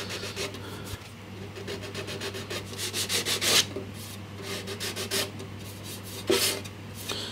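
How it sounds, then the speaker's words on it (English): Sandpaper rubs against the case of an AWA 586MA radio in quick back-and-forth strokes, up close, with a brief louder scrubbing burst partway through over a low steady hum. "I'll just try and rub it out with some sandpaper"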